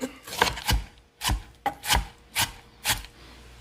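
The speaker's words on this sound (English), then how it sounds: "next I got a nice tomato here. I'm gonna chop up about a half of a cup" A knife chops a tomato on a board in a series of about six separate, fairly close cuts, each a short thud with a slicing rasp, spaced roughly half a second apart with no talk.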